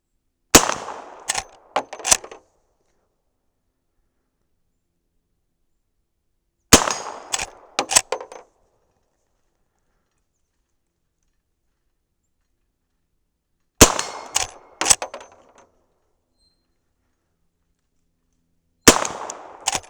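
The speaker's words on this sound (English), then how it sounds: "this is a lot of fun to shoot" Four bursts of shooting from a .357 Magnum Henry Big Boy lever-action rifle firing powder-coated 158 gr semi-wadcutter rounds at steel plates: each group of sharp cracks with ringing steel hits, separated by long quiet pauses.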